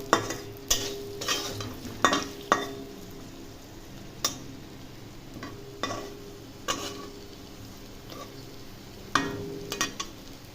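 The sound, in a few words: mixing fried potato in the frying pan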